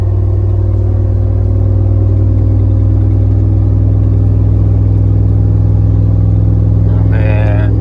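Chevrolet LQ4 6.0 V8 in a towing truck pulling a load up a light grade hill near 55–60 mph, a steady loud low engine drone with road rumble throughout, under partial throttle.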